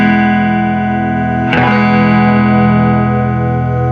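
An electric guitar plays through a Fender TreVerb pedal with slow tremolo, sustaining a chord whose volume pulses gently and slowly, with a fresh pick attack struck midway and ringing on afterward.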